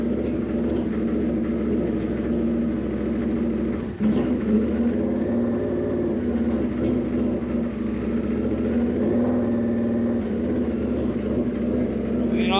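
An Indian FTR1200 motorcycle engine runs steadily close by with a constant low rumble, swelling slightly in revs a couple of times and without a break through the whole stretch.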